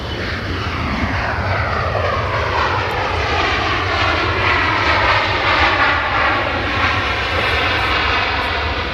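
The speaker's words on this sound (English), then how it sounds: "This is a Ryanair 737 in from Marseille." A Ryanair Boeing 737 arriving from Marseille at Manchester Airport, its engines producing a loud, steady roar with a sweeping whine that holds across the whole stretch, close and alone with no talk.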